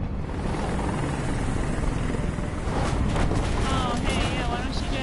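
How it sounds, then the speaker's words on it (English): A helicopter in the video game Detroit: Become Human, a loud, steady rotor roar with a deep rumbling thud filling the whole clip, with faint voices underneath. "why don't you guys just be loud and obnoxious with your dumb helicopter?"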